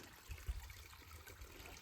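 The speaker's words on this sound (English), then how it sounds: "Stopped at this little creek across the trail here." A small creek crossing a hiking trail trickles and gurgles steadily, soft and continuous with a few low splashes, close by and with no talking.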